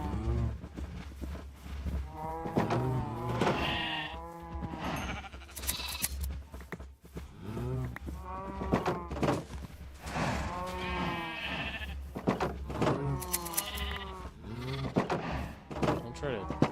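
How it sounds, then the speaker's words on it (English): Sheep bleating in a late-night crafting game, several wavering calls repeated over steady background music, with someone talking in between and over them. "Sheep."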